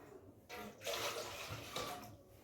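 Water is poured over deity idols during a bathing ritual at a home puja, a soft splashing pour that swells after a quiet start and runs on unevenly, with no voices.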